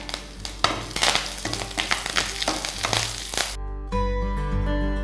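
Cumin, dried red chillies, urad dal and curry leaves crackle and spatter in hot oil for a Telugu chutney tempering, with sharp popping bursts that settle into a steadier, quieter sizzle near the end.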